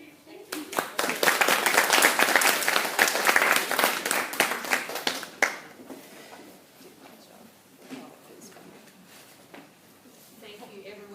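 A conference audience gives the speakers a loud round of applause that swells for several seconds, then thins into scattered claps as a voice begins talking.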